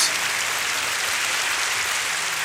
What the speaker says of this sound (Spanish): Un fuerte aplauso para Jesús.